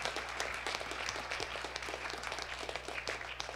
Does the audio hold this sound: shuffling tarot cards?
no